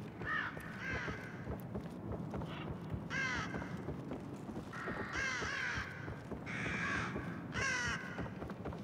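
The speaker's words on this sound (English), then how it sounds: "Fucking crows." Crows in the video game The Evil Within caw repeatedly, loud and fairly close, in irregular bursts of harsh calls over a low ambient rumble.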